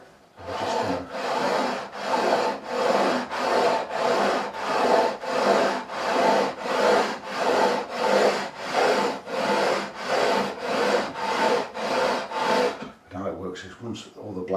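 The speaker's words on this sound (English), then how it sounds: "I'm going to go with the 240 grit, which is on the base of my levelling beam." Repeated back-and-forth strokes of a 240-grit levelling beam sanding the frets of a Warwick Corvette Double Buck bass neck, steady and rhythmic at close range for about thirteen seconds, then ending in a few light handling noises.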